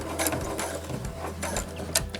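A sewing machine topstitching a replacement zipper on a pair of jeans, with a close, steady mechanical whir and rhythmic needle clatter that runs through the whole stretch without talk.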